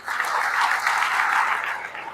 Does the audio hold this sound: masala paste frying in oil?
no